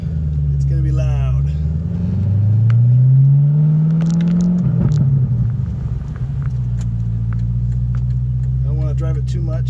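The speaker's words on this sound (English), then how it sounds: "here's me driving it without an exhaust on. It's going to be loud" A loud, unmuffled 2004 Pontiac GTO engine with no exhaust fitted rumbles and revs up then settles while driving, with brief talking heard over it near the start and end.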